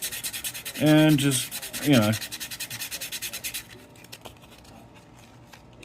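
Sandpaper of 320 grit rubs by hand over Defender pickup bodywork in quick, rhythmic scratchy strokes, close and clear, with someone speaking briefly at the start.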